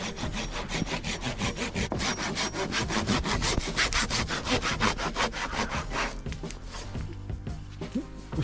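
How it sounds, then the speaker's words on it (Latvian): A Fiskars SV75 hand saw cuts dry wood outdoors in a forest, its fast, even back-and-forth strokes loud and close before slowing and fading near the end. "Zāģē labāk par visu mežā."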